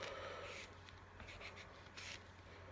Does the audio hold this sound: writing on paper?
yes